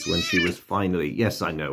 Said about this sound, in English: Pardon the cat.